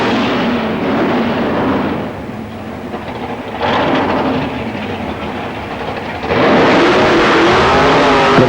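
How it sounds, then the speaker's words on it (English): A drag racing car at Avon Park roars through a tyre-warming burnout in 1995, with a loud, continuous engine blare that dips mid-clip and then surges louder toward the end. "coming back for another bite of the burnout there"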